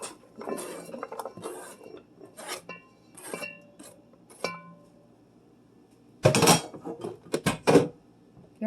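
Chopped onion dumped into a Dutch oven greased with butter spray, heard as a series of close clattering knocks and scrapes against the pot in uneven bursts, with no talking.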